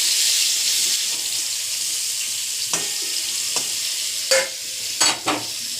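Food frying in a kadhai over a low flame gives a steady, close sizzle throughout, with a few sharp spatula scrapes and stirs near the end and no talking.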